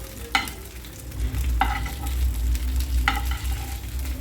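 Prawns frying in a pan give a steady sizzle with a low rumble, and three distinct scraping stirs fall about every second and a half; close, with no speech.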